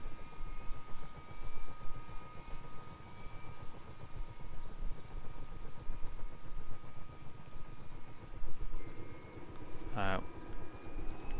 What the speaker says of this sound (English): you can start seeing everything spool up on the right engine